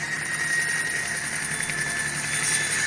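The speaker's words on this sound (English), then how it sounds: "The helicopter gunship sweeps the route ahead of the convoy, looking for signs of insurgent activity." A military helicopter gunship flies steadily overhead, sweeping a road ahead of a convoy. The rotor drone is loud, continuous and even, with no voices.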